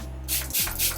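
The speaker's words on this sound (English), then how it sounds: "This is my iconic London Prep Set and Glow spray." London Prep Set and Glow setting spray is misted out in two or three quick, close hissing puffs over a low background hum.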